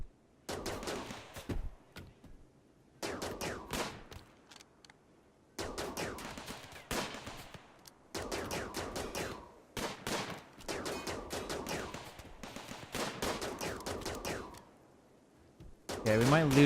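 Gunfire and defensive turrets firing in RimWorld, repeated rapid bursts of automatic shots in clusters separated by short pauses, loud and close, with a voice speaking between volleys.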